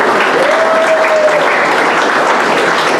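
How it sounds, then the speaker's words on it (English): A round of applause at a county GOP gathering, a dense, steady wash of many hands clapping, loud and sustained throughout, with a brief whistle-like tone early on. "Let's give him a round of applause."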